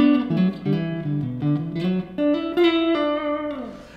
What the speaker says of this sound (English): Now I could do that with a lower pick attack and it would sound like this.